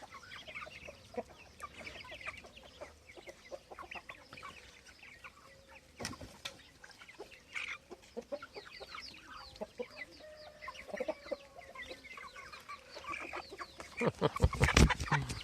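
Free-ranging farm chickens on a village farm cluck and squawk as a hen chases others away from the feed, with close scattered clucks and sharper bursts of scuffling and flapping near the end; no talk.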